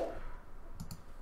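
A quick pair of key clicks on a computer keyboard, close and fairly soft, with no talking.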